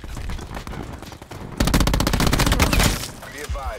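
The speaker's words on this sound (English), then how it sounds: "That guy shot me one bullet." Gunfire in a Black Ops 4 match: a fast, loud burst of rapid shots cuts in partway through, following quieter in-game action, then fades into softer noise.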